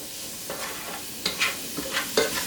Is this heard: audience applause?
no